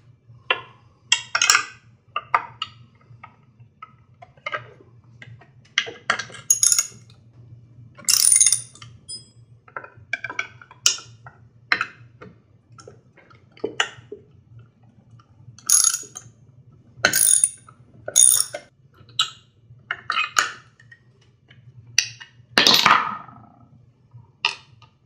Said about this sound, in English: We have to remove these T27 Torx bolts and the backing nuts